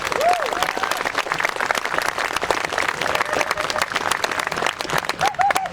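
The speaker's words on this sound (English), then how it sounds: "Round of applause for them." An outdoor crowd at a Memorial Day parade ceremony claps loudly and continuously for the Civil Air Patrol, dense applause with a few whoops and shouts rising over it.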